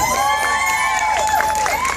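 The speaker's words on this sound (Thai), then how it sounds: "ขอบคุณสำหรับเสียงปรบมือ" A crowd cheering and clapping after a Thai band's live performance, loud and close, with shouts and whoops rising over the applause while music tones linger beneath.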